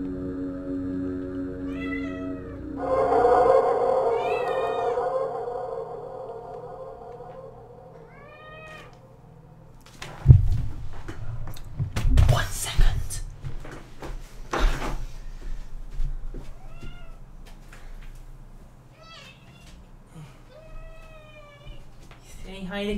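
Pet cat meowing indoors, a series of short rising and falling meows spaced throughout, with some louder handling and door-like thumps in the middle and a person talking softly between calls.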